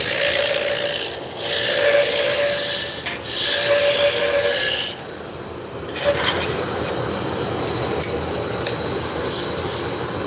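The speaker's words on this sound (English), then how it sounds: "the first thing we're going to do is grab our roughing gouge. We're going to bring the diameter down" A roughing gouge cuts a wooden spindle on a lathe, producing a steady, close rasping hiss over the machine's hum that eases slightly partway through and keeps going without pause.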